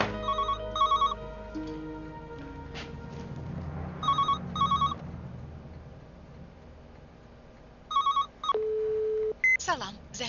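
A telephone rings in repeated double bursts of electronic trill, pauses between them, then a long answering-machine beep follows, with voices talking underneath.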